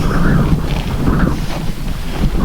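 Wind blowing hard across an open desert ghost town, a constant loud rushing roar buffeting the microphone with gusty swells and no pauses or talking.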